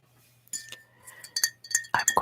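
A glass bottle of water clinks and taps in a quiet ASMR setting, a handful of bright, close glassy knocks and rattles that grow busier toward the end, with no speech.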